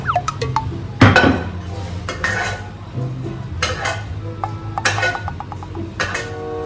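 A utensil stirs and scrapes bread in a frying pan with reduced sugar, with scattered metallic clinks and soft rustling, close and moderately loud.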